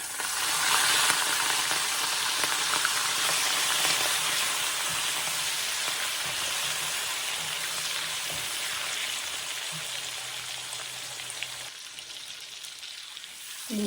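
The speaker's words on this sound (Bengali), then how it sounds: "শাক ভাজির জন্য প্রথমে আমি চিংড়ি মাছগুলো একটু হলুদ লবণ দিয়ে ভাজা নেব" Prawns frying in a pan with turmeric and salt, a steady, bright sizzle that runs loud and continuous, with occasional scraping clicks of stirring and a brief quieter dip near the end.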